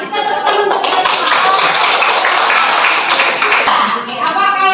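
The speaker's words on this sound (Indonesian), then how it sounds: "Kita tepuk untuk kita." Schoolchildren in a classroom clap for their group with loud, brisk applause that carries throughout, with a few sharper individual claps standing out from the mass.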